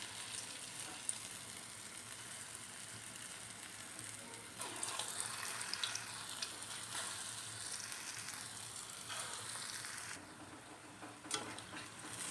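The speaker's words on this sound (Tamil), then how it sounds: "எண்ணெய் சூடாகிடுத்து, குணுக்கு போட்டுரும்." Kunukku lentil fritters fry in hot oil with a steady bubbling hiss that swells louder when the batter goes in, close and continuous, with no talking.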